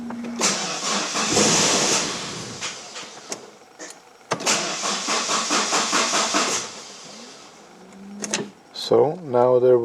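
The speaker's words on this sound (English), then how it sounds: "then start the car" A Saab 9-5 Aero cranking and trying to start with its fuel pump relay pulled, two long rough cranking bursts separated by a pause, close up, followed by a rising whine.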